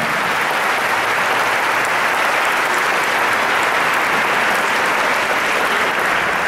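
A church congregation at a Catholic Mass claps in loud, steady, sustained applause that fills the room without letting up.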